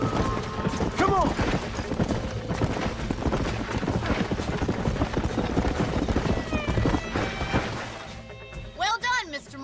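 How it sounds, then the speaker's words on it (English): Horses in the Red Dead Redemption video game trot with steady clip-clop hoofbeats and let out a couple of loud whinnies, layered over game music and dialogue. "These are fine horses."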